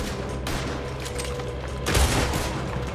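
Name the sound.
gunfire in the video game Red Dead Redemption 2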